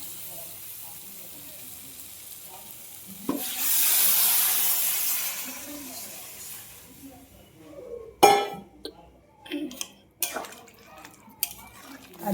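Water poured into a hot pan of crab and potato curry sets off a loud steaming hiss that swells and fades, followed by clattering of utensils against the pan.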